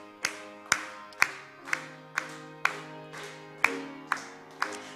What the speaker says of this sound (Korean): 우리 한번 박수 치면서